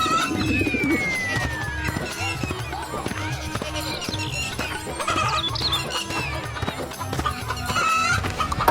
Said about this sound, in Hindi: अरे कलुआ, तू ये इतनी बड़ी बड़ी मुर्गी लेकर कहाँ घूम रहा है?